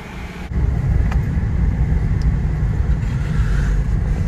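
A freshly refuelled car drives along a coastal road in Maharashtra, a low engine hum and tyre rumble swelling after a quieter start and then holding steady and close.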